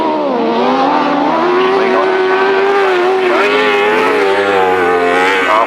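Grasstrack racing motorcycles wind up their throttles on the last lap, their loud, close engines whining in rising and falling tones that overlap throughout.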